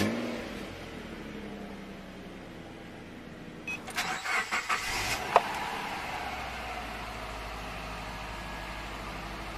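A car engine cranks with a short stuttering starter whir, catches, and settles into a steady idle after a brief rev, heard close against low background rumble.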